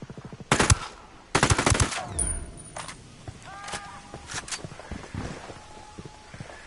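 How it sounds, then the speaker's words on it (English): Gunfire in Tom Clancy's Ghost Recon Wildlands: two loud bursts of rapid automatic fire, then scattered single shots and clattering impacts that fade into quieter sporadic pops and footsteps. "Opening fire on these fuckers."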